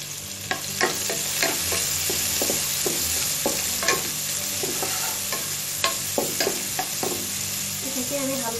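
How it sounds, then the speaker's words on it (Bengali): Half a cup of chopped onion sizzles steadily in hot oil in a pan for a mixed vegetable dish, with repeated scrapes and taps of a stirring spoon over the constant frying hiss. "এটাকে আমি হালকা ব্রাউন কালার করে ভেজে নেব"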